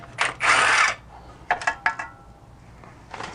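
An impact or power tool loosens the pressure plate bolts on a car clutch, starting with a short whirring burst, then several quick rattling hits and a final brief spin, close and loud.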